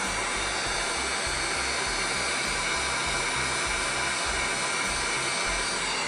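A heat tool blowing over embossing powder to melt it, a loud continuous close whooshing hum with a slight pulsing flutter, running steadily throughout with no talking.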